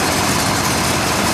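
A 4166 set of locomotives idles steadily nearby at a railway event, a continuous deep engine rumble with broadband mechanical noise, loud and unchanging throughout with no talk.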